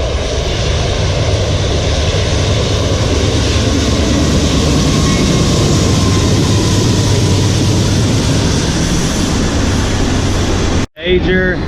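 A train rumbles past close by, a loud, continuous broadband roar with faint squeals that holds steady before cutting off abruptly near the end.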